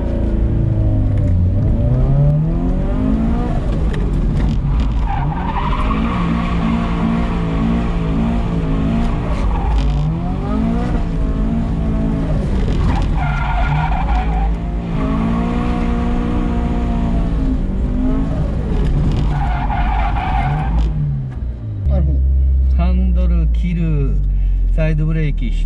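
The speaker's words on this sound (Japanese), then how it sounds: "サイドブレーキ引く、滑り出す、アクセル踏む。" A car is pushed into a handbrake drift, its engine revving hard as the tires squeal and skid in long rising and falling wails, loud and close, with people talking over the noise throughout.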